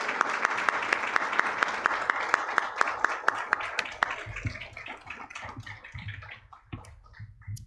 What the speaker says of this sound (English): please take a moment to stand so we can acknowledge you with one round of applause